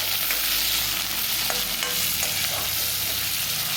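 Slit green chillies and curry leaves sauté in hot oil in a pan, giving a loud, dense, continuous sizzle with a few stirring knocks, heard close with no talking.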